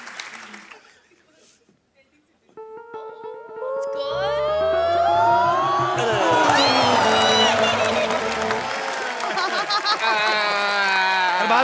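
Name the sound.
studio audience applause for the next player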